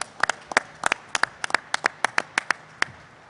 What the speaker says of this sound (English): Just give them a big round of applause for what they've done and what they're doing.